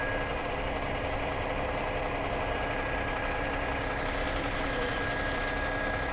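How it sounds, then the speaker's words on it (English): A massive truck idles on a city street, a steady low rumble with a constant high whine running over it, close and unbroken, with no talking. "it's a massive truck"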